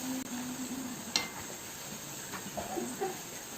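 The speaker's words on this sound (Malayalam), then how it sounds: "പിന്നെ ഇത് തിരിച്ചും മറിച്ചും ഒക്കെ ഇട്ടൊന്ന് ഫ്രൈ ചെയ്തെടുക്കാം." Banana fritters fry in hot oil, giving a steady, quiet sizzle with occasional soft stirring and clinks from the pan, heard alone without talk.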